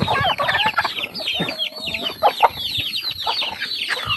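Backyard chickens clucking and chattering at feeding time on a rural Philippine farm, a busy overlapping flock close by with some louder squawks, no speech.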